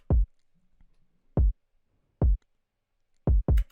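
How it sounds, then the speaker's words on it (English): A hyperpop kick drum pattern that follows the 808 bass: five punchy, booming hits spaced irregularly, the last two close together, loud and isolated against near silence. "And all it does is follow the 808"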